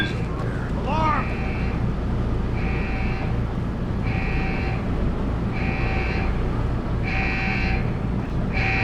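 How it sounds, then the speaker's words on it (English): A Deus Ex: Human Revolution alarm sounds in regular repeating electronic pulses, steady and fairly loud over a constant low game hum, with a brief voice call near the start. "Alarm!"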